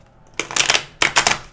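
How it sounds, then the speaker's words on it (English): Two quick riffle shuffles of slightly sticky tarot cards, close and crisp, each a rapid flutter of card edges followed by a short pause. "I'm going to shuffle a couple of times."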